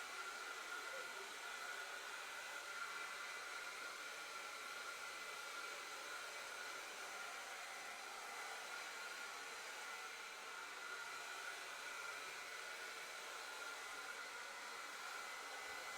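A hair dryer runs continuously for the whole stretch in a room where a china cabinet is being painted, a steady even whoosh of moderate level with no talking.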